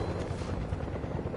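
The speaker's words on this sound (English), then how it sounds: "Alright, Mythic Dream, you're gonna have to jump in this helicopter." A helicopter in a video game runs with a loud, continuous rotor thrum and engine roar, close and steady throughout.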